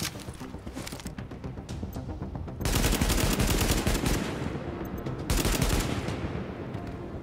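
Sustained AK rifle fire in The Division, a dense automatic burst running most of the time with two louder, heavier stretches in the middle and near the end, close and loud with no talk.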